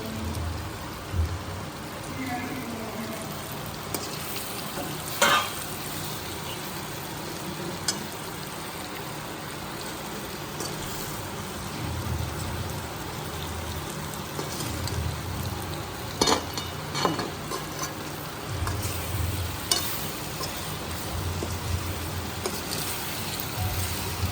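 Kantola (spiny gourd) sabzi cooking in a pan after being fried, giving a steady soft sizzle and crackle that runs throughout, with occasional louder pops and no talking.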